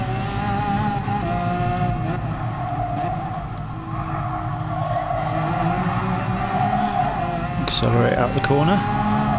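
A 2011 Lamborghini Aventador LP700-4 in GT Sport powers out of a corner, its engine note rising and loud throughout with a brief tire squeal near the end, someone talking over it.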